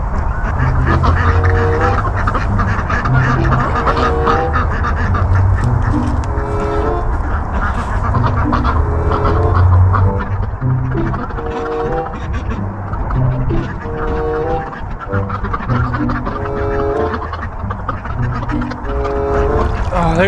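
Ducks quacking close by at a rain harvest system on a homestead farm, a steady stream of overlapping calls with a dog nearby and a person talking over them.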